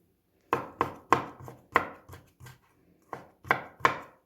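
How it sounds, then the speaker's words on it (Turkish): A knife finely chops fatty beef on a board in steady, close thuds, about a dozen strokes with a short pause midway. "Orta yağlı dana etim var. İnce ince doğradım."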